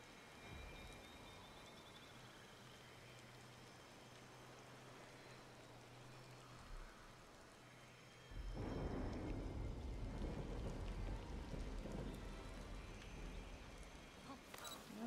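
Rain and thunder in the Disney Dreamlight Valley video game: a soft rain hiss with a low rumble, then a louder burst of thunder and heavier rain midway, faint throughout.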